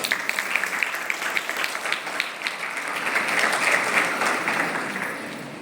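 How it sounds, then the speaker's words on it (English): Applause from an audience at a Sharada Pooja discourse gathering, a steady wash of many hands clapping that swells slightly toward the end, fairly close and without talk over it. "We have a big round of applause."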